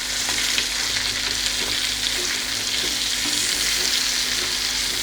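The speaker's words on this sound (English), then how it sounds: "So let it fry for some more time till it's nice and golden dark brown." Chicken legs pan fry in oil with a dense, even sizzle and frequent small pops, loud and close, continuing unbroken with no voices.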